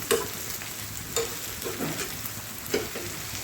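Onion fries in a pan for a dry kaleji (liver) dish, a soft, steady sizzle broken by a few light stirring knocks.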